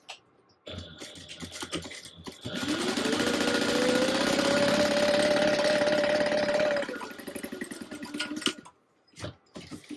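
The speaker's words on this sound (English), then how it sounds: "you're going to go ahead and top stitch along the edge that you just folded here" A sewing machine top-stitches along a folded fabric edge, its steady motor whir rising at about two and a half seconds and running evenly for roughly four seconds before stopping, with handling clicks before and after.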